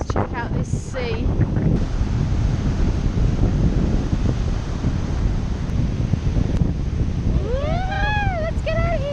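Sea waves at Praia da Rocha, Portugal, a rough windy roar of surf buffeting the microphone, with whistling and voice-like sweeps near the end.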